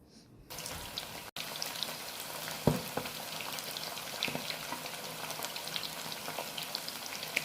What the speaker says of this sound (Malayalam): ഒരു സൈഡ് ഫ്രൈ ആയിട്ടുണ്ട് ഇനി ഒന്ന് തിരിച്ചിട്ട് കൊടുക്കാം